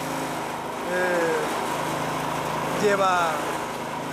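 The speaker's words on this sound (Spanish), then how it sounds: "la preparación de ese hormigón con una revolvedora de cemento que lo que hace es batir la arena amarilla" Cement mixer engine running on a construction site while mixing concrete from yellow sand, cement and water, a steady droning motor with whining pitch sweeps, someone speaking briefly over it.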